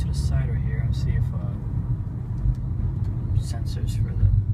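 A 2013 Nissan Maxima SV slowing to pull over at the roadside: a steady, close low engine and road rumble throughout, with a voice faintly over it.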